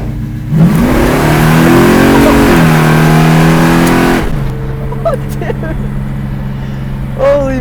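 A 1970 Oldsmobile 442 accelerates hard, its engine roaring loud and close as the revs climb through gear changes, then cutting off abruptly; people talk and exclaim over it.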